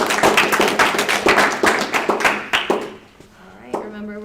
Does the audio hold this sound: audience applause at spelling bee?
yes